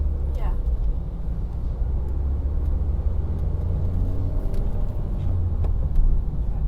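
A car engine pulls under steady throttle on a dual carriageway during a driving lesson, a continuous low rumble of engine and road noise throughout with faint voices in the background.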